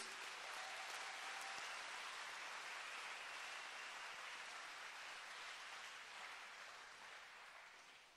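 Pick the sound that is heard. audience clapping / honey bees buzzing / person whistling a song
audience clapping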